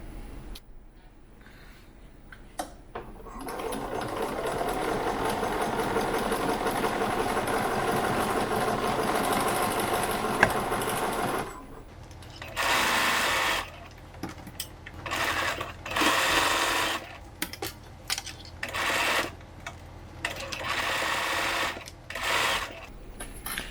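Sewing machine stitching around the edge of a fabric scrubs hat, starting with one long steady whirring run, then a series of shorter stop-start bursts, close and clear with no talking.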